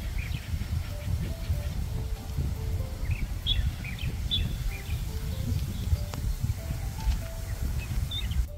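Birds sing in Yangdong village, a historic Joseon-era village in Gyeongju, giving scattered short chirps and tweets over a steady low rumble of outdoor background noise.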